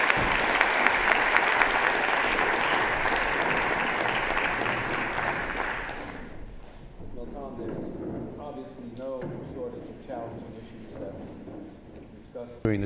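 An auditorium audience at a Rice University Baker Institute student forum applauds warmly to welcome a guest speaker, a dense sustained clapping that fades out after about six seconds, followed by someone speaking.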